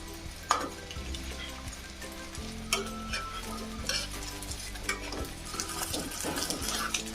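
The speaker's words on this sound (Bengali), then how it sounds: "ডিমটা আমি বটে বটে ভালোভাবে ভেজে নেব ভিতরে যাতে কাঁচা না থাকে সেভাবে আমি ভেজে নিব" An egg fries in a pan for a vegetable egg sandwich, giving a continuous soft sizzle with scattered clinks and scrapes of a spatula, close and moderately loud with no talk.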